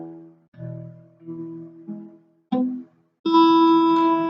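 Strummed guitar chords ring out one after another, the first few dull and choked where a finger's fleshy part accidentally mutes a string, then a brighter, fuller chord sustains at the end; close and alone, no talking.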